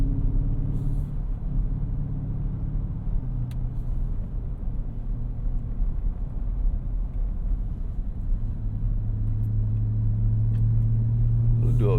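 A 2024 Ford F-150 Raptor R, a lifted truck on 37-inch tires, drives in sport mode with revs held high, giving a steady low engine drone and rumble that climbs in pitch near the end.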